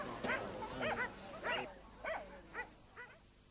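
A Finnish Spitz barks in a series of about six sharp, high yips at an uneven rhythm. The barks are fairly close and clear, with no talking in between.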